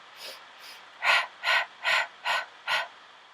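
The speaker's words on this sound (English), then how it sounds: "Short, sharp breaths." Short, sharp breaths are pushed out through the mouth during a Pilates workout: two softer puffs, then five strong, evenly spaced exhalations in a steady rhythm, close and alone.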